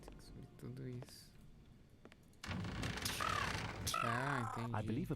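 A crow cawing on a rooftop in a Sherlock Holmes detective video game, several harsh caws standing out over game ambience and voices talking.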